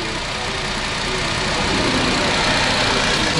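A kei car engine idles nearby on a frozen night in remote taiga, giving a dense, steady rumbling hum with no breaks, loud and even throughout.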